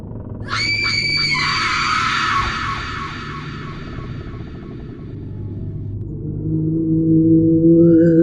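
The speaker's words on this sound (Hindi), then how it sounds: "एक भयंकर चीख के साथ वह गायब हो गई।" A woman's terrible drawn-out scream in a Hindi horror story, loud and shrill at first then fading over several seconds above a low rumbling music bed, with no talk.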